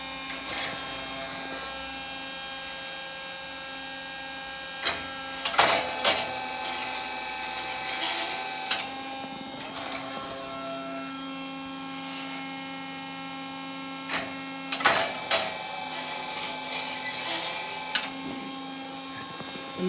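A plugged-in hydraulic wood splitter runs with a steady tonal motor hum, close and moderately loud, broken by a few louder clunks and rattles.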